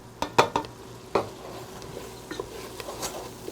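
Flour cooking slowly in the bottom of a soup pot for cheddar and beer soup, stirred with soft scraping strokes and a faint sizzle, a few sharper knocks early then quieter steady stirring.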